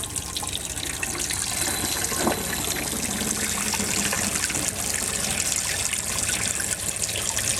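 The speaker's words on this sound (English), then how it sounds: "what I'm going to do is run that stuff that I poured into the tank through the taps." Water runs steadily from the fresh water taps of a camper van, flushing a cleaning solution through the lines in a continuous splashing, hissing flow, close and fairly loud with no talking.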